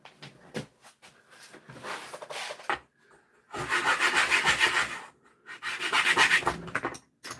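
Sandpaper rubbing against wood on a handmade knife in a hillbilly workshop, coming in several bursts of rough, raspy scraping, louder in two long later passes, with no talking.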